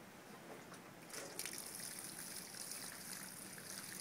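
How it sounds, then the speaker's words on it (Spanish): Water pours steadily onto garden plants with a continuous close splashing trickle that grows a little louder and fuller partway through. There is no talking. "Es importante regar las plantas con mucho agua."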